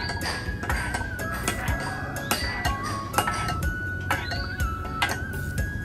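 A spoon stirs lime fish sauce with freshly minced garlic and chili in a bowl, giving a steady run of light clinks and taps against the dish, close and clear, with no talking.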